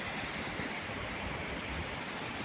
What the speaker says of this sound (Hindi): देखिए एक झरने की तरह है ये और सुंदर दृश्य भी हैं।